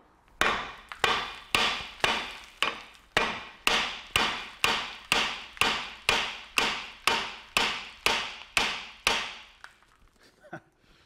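Hammer blows on a rusty part of a front brake on an Opel Vauxhall Astra, struck about sixteen times in a steady, evenly spaced run of loud, close metallic knocks, then a few faint clinks.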